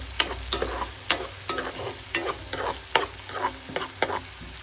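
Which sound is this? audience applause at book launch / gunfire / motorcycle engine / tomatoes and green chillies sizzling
tomatoes and green chillies sizzling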